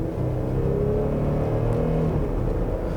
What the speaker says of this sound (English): When you really get it going, the engine has a nice satisfying growl